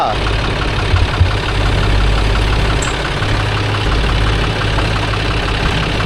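A Mahindra 575 DI or John Deere 5050D tractor engine runs steadily close by beside a JCB 3DX backhoe loading soil, a continuous low rumble with a faint voice briefly audible.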